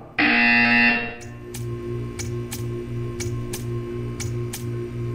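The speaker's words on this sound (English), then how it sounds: "You will hear a buzzer. When you hear the buzzer, stare at the art." A loud sustained buzzer tone rings for about a second in the video game Portal 2, then gives way to a quieter repeating ticking pulse over a low hum.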